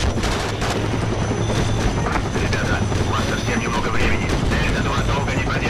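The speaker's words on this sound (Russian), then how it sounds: "По нам танк лупит." Tank cannon fire and gunfire in the war game Conflict: Desert Storm 2, a dense, continuous barrage of shots and booms loud throughout with battle noise and faint voices mixed in.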